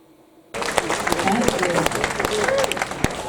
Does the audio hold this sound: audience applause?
yes